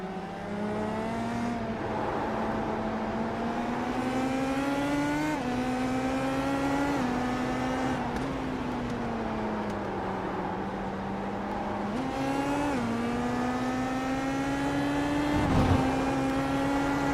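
IndyCar race cars in a racing game at Indianapolis Motor Speedway drone loudly and continuously at high revs, the engine pitch climbing and dipping gently through the laps, with no voices.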